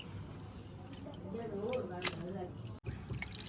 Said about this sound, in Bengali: মাছগুলো এবার একটু ধুয়ে নিচ্ছি পরিষ্কার করে, ভালো করে।